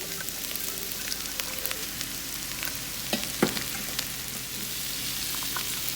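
Onions and celery stir-frying in a pan, a steady close sizzle with occasional light clicks and stirring taps, no talk.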